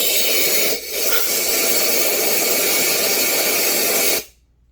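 Compressed air from an air hose blasts loudly and steadily through the muffler of a Stihl MS 291 chainsaw, a continuous broadband hiss with a brief dip near the start, then stopping abruptly before the end.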